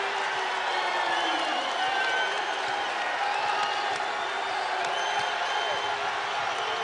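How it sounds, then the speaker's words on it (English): Basketball crowd at TD Arena cheering after a made three-pointer in a College of Charleston vs. Hofstra game, a sustained roar with whoops and clapping, a commentator's voice faintly beneath it. "And here comes the crowd at TD Arena."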